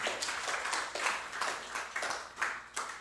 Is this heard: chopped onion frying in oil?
no